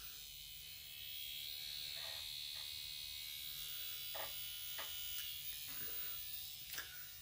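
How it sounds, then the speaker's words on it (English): A microneedling pen buzzes steadily after being switched on, a faint, continuous electric whir with a few soft taps and knocks over it. "So I'm just going to turn my machine on."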